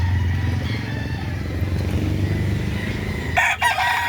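A rooster crows over a steady low rumble of engine-like background noise, with a brief sharper burst near the end.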